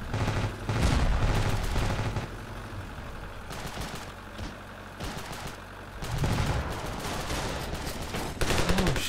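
Rapid bursts of automatic gunfire and shots crackle almost continuously in the Ravenfield video game, loud and dense, with a few heavier booms between volleys.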